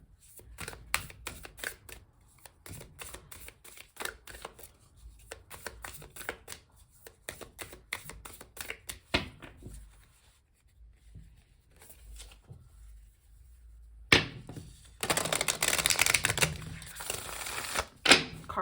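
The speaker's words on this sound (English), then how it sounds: "Card shuffling ASMR." Oracle cards being shuffled in a close, repeated series of crisp riffling bursts and soft slaps, building to a louder, denser flurry of shuffling near the end with no talking.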